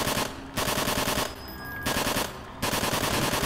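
Loud automatic gunfire in a video game: three long rapid bursts from a single gun, separated by short pauses with quieter game sounds.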